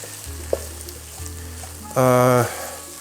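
Pad thai ingredients with cooked meat stirred together in a hot frying pan, giving a steady low sizzle with a brief clatter partway through and a short loud harmonic tone near the end.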